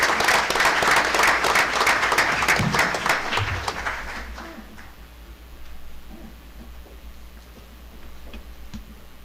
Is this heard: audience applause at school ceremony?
yes